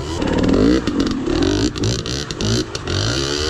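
A Husqvarna TE300 two-stroke dirt bike rides hard enduro terrain close by, its engine revving and bogging in uneven surges with clutch work and clattering over rough ground.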